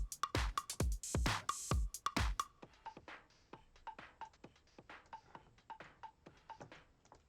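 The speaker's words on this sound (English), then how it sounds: "it's got all the lows taken out and all the highs taken out" Band-filtered EDM track section with lows and highs cut away, leaving a thin, quiet midrange drum pattern with bright ticks and tonal blips in a steady rhythm, following a brief fuller burst at the start.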